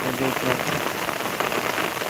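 Heavy rain pours down steadily, a loud, dense hiss of drops striking surfaces without pause.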